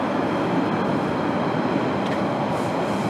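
A train rumbles past in a Boston park corridor, a steady broadband roar that holds loud and even throughout, with faint rail squeals near the end.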